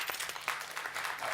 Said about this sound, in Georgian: გილოცავთ აპლოდისმენტები.